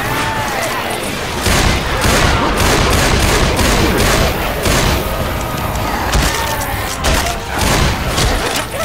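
Dense, continuous gunfire from several weapons in Left 4 Dead 2 as players shoot at the Tank, rapid bursts and booming shots overlapping loudly throughout, with shouting voices mixed in.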